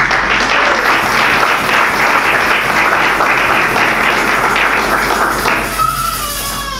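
Congregation at a French-language church seminar applauding and cheering together, loud sustained clapping that fades slightly at the end.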